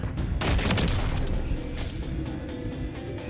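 Airsoft shots from a BAS-B sniper rifle fitted with a JAK Outlaw kit, a few sharp cracks over a dense, noisy outdoor background.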